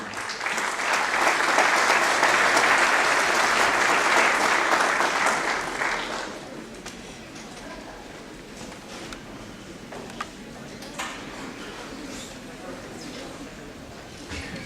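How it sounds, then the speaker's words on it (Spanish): An audience at a political forum in Cusco, Peru, claps loudly and steadily for several seconds, then the applause dies away into a quiet room with faint murmurs and a few stray noises. "Un aplauso para ella."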